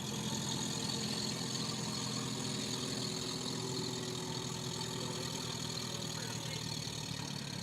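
A Minneapolis-Moline U tractor running at a barnyard tractor pull at the Georgetown Fair, a constant throaty engine drone with slight knocking texture, loud and steady across the whole stretch, with no clear talk over it.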